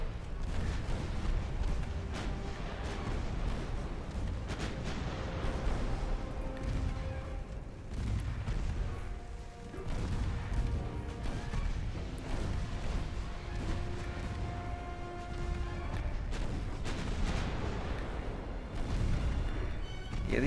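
Naval gunfire from warships in the video game Ultimate Admiral Dreadnoughts, a continuous battle soundscape of repeated booming cannon shots and rumbling blasts over a steady low roar, moderately loud throughout with no talk.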